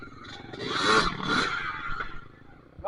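An underbone motorbike revs and strains as it climbs over an obstacle on a trail ride toward the beach, engine surging loudly with scraping and clatter, rising to a peak then easing before a final sharp burst.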